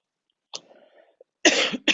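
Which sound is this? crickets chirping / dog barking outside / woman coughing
woman coughing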